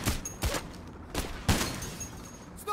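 Sniper fire in the heist video game Payday: The Heist, several sharp cracking shots with glassy shattering at uneven intervals, loud and close, with no talk.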